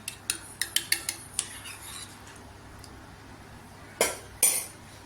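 Cold water being stirred into spiced buttermilk (masala chaas): a spoon gives a quick run of light metallic clinks against the vessel, then a pause, then two louder clinks near the end, with no talking.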